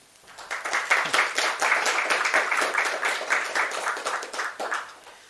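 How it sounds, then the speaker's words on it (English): An audience applauds a speaker introduced at a Debian conference talk, a dense steady burst of many hands clapping for about five seconds that fades out at the end. "give a warm round of applause to Jonathan"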